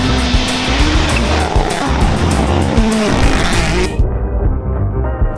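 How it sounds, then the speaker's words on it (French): Hyundai WRC rally cars on a gravel special stage of the Acropolis Rally, loud engines roaring past up close with tyres squealing and skidding, cutting off abruptly after about four seconds. "on a eu 3 voitures qui sont passées"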